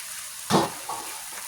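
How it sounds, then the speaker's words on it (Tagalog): A pot of chopsuey bubbling under its lid gives a soft, brief burst of sizzling and bubbling, followed by a fainter second gurgle against a low background hiss. "Siyempre ito, bukal na ito ang sapsoy."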